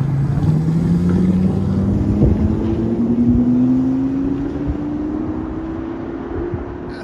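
Ford Excursion with a 5.4L V8 and Magnaflow exhaust (3-inch pipe, 28-inch muffler, 6-inch tip) idling up into a steady rev, its deep drone slowly climbing in pitch, close and alone.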